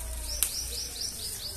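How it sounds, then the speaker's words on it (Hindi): Several birds chirp outdoors in a garden with karonda shrubs, giving a steady series of bright, repeated calls at moderate distance, with one sharp click early on and no talking. "चिड़िया बोल रही है"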